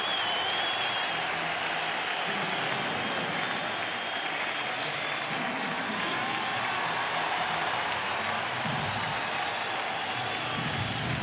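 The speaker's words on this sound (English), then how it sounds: "this crowd to its feet with Pierzynski walking in" A baseball crowd at a 2005 World Series game between the Astros and White Sox rises and applauds as Pierzynski walks in, a dense, sustained roar of clapping and cheering that fills the stadium, with faint talk underneath.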